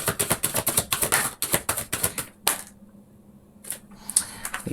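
Tarot cards are shuffled in a fast run of sharp, close riffling snaps, then a short pause, then a few more crisp clicks.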